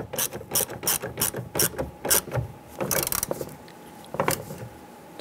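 A hand ratchet clicks in quick, rhythmic bursts while tightening a bolt on the rear power window switch of a 2002-2008 Dodge Ram 1500, close and clear with brief pauses between strokes.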